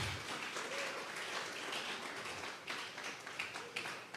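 A church congregation at a Sunday service applauds, a dense wash of many hands clapping at a moderate distance, with a few sharper claps standing out toward the end.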